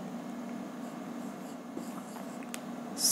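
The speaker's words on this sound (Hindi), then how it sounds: "C जो है यहाँ लिख लेता हूँ" A pen or marker writes on a board during a lesson, with faint, soft scratching strokes and a few light taps, heard alone and close.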